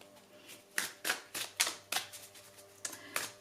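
Oracle cards are shuffled in a series of crisp, separate riffling flicks, about eight quick papery snaps at an irregular rhythm, close by and alone, with no voices.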